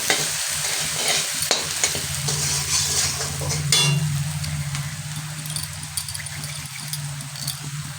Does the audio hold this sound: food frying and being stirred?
yes